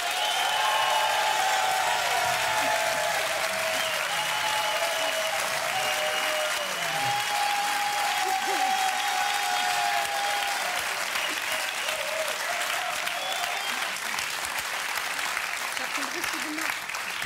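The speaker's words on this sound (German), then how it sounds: "Der Applaus war eindeutig auf Ihrer Seite." Studio audience applause fills a German late-night talk show, a dense, steady roar of clapping that holds loud from start to finish with a few scattered voices and cheers mixed in.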